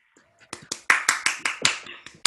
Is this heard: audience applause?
yes